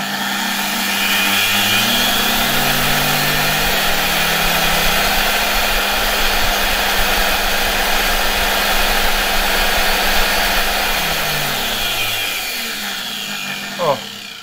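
A Silma RH-5500A electric motor with a worn, sparking commutator, running unmounted on a bench, spins up to a steady loud whine with a harsh buzzing edge, then winds down near the end.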